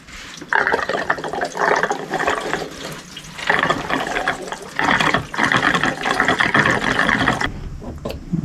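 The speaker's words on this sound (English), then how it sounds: "let's fill this thing up and see if we got any fuel leaks" Fuel pours into the tank of a 1980 Honda CB 900 motorcycle lawnmower trike in several gushing bursts with short pauses between, a close liquid splashing and rushing.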